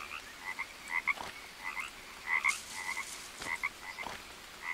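Frogs croaking in the Green Hell survival video game: a steady run of soft, repeated croaks over faint jungle background, fairly quiet and with no voices.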